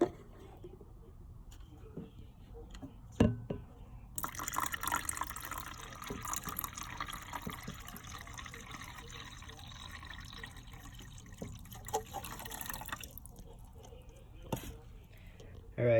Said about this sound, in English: I'm probably just going to do a little water change with dechlorinator